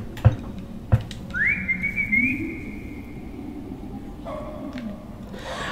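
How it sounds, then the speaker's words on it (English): Someone whistles a sustained, level tune in the horror video game Lost in Vivo, after two sharp thuds; a shorter, lower whistle follows later over a quiet, rumbling ambient bed. "I kind of wish you could have whistled the entire game."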